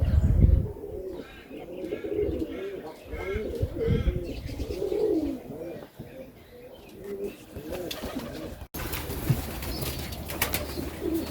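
Serbian Highflyer pigeons coo in soft, repeated low calls close by, with occasional chirps and gusts of wind noise; a voice speaks faintly in the background.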